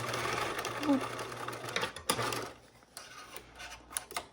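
Domestic sewing machine back stitching the bottom of a bag pocket, a short burst of mechanical whirring that stops and restarts, close and fairly quiet.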